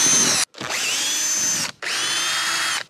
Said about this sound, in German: Aber erstmal müssen wir hier die Schrauben rausdrehen.